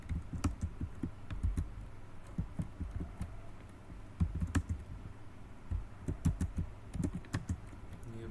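Quiet typing of HTML code on a computer keyboard, irregular bursts of soft key clicks with brief pauses between, close and alone over a low background hum.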